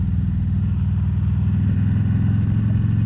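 A big red motorcycle idles loud and close, its deep, steady engine rumble pulsing evenly throughout with no voices.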